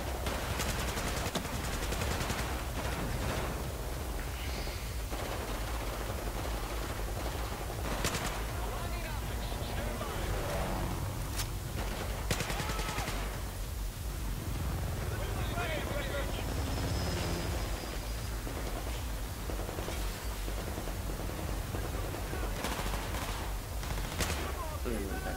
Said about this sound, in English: I shot the guy like 10 times